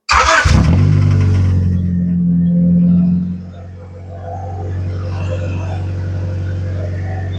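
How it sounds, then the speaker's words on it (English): A Honda Accord CB7 engine with a Flashark exhaust and resonator cranks and catches with a burst, then settles into a loud, deep, raspy idle that dips slightly and keeps rumbling close by. "So we're gonna go ahead and start it up right now."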